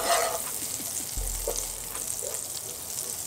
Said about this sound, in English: I'm going to put some olive oil in here, and I'm going to put a little bit of butter